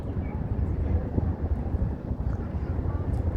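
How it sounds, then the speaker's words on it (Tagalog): Low rumbling wind on an overcast day at the Kennedy Town waterfront promenade in Hong Kong buffets the microphone in uneven gusts, a dull roar filling the background. "makulimlim pa rin at mahangin. Mas mahangin ngayon kaysa kanina."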